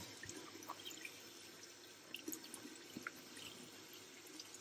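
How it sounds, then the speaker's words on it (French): A BMC sport air filter from an Audi TT MK2 is rinsed under lukewarm tap water, a soft continuous faucet stream splashing quietly with a few faint drips and knocks. "je vais le laver un petit peu à l'eau tiède pour accélérer en fait le séchage après"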